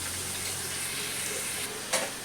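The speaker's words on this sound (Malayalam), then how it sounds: "ഇത് തുറന്ന് സവാള നമുക്കൊന്ന് ഇളക്കി കൊടുക്കാം" Onions for a chicken curry sizzle in an uncovered pan as they are stirred, a steady frying hiss with a soft scrape near the end.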